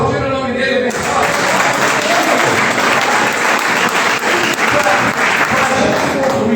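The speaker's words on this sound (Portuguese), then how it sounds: "Você pode aplaudir o nome dele bem forte." A church congregation at a Portuguese-language family service bursts into strong, sustained applause, dense and loud throughout, with voices mixed into the clapping.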